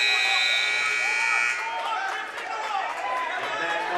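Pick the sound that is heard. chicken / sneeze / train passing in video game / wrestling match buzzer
wrestling match buzzer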